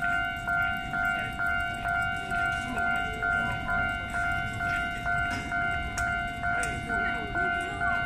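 A Keisei 3600 series train on a night test run at Keisei Takasago sounds a long, steady, sustained tone that pulses softly over a rumbling background, with faint voices nearby.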